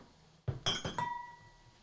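Glassware clinking as water and a glass of wine are set down, a few close, bright chinks in quick succession, the last one ringing out softly in a quiet room.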